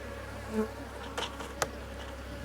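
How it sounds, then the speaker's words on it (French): Steady, close buzzing of black honeybees hovering over their hive in spring, continuous throughout, with a couple of brief clicks. "Il y a déjà les abeilles, un peu d'abeilles au-dessus."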